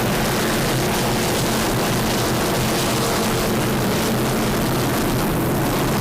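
Fountain offshore powerboats race in the Super V class at the 2004 APBA Offshore Grand Prix season opener in Marathon, their engines merging into a loud, steady roar that holds without a break.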